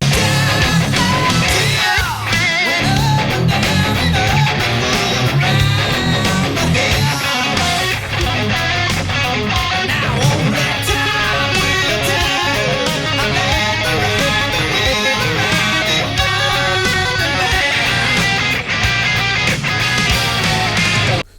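Electric guitar playing the verse of a song, a dense, continuous rhythm part with busy riffing and flashy variations, loud and full throughout with no talking.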